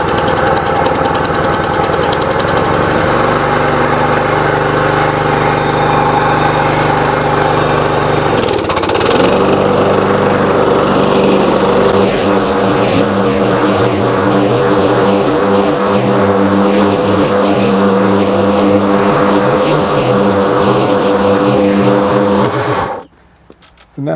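Gas lawn mower running steadily and loud while chopping up pine needles in a backyard, its engine note shifting and straining mid-run as it bites into the pile, then cutting off abruptly near the end.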